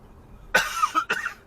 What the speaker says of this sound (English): As you can hear me coughing up my guts